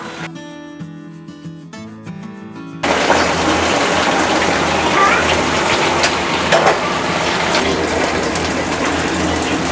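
Quail pieces deep frying in hot oil make a dense, continuous crackling sizzle up close, following a few seconds of music at the start.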